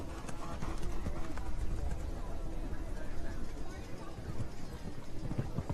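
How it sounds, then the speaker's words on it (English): A big horse canters through an adult show jumping round at the 2024 Burlington Tack 'n Togs Cup, its hooves thudding in a steady rhythm over arena footing, with faint background voices. "Looks like a big horse to maneuver over these jumps, but Jessica's giving it her best shot."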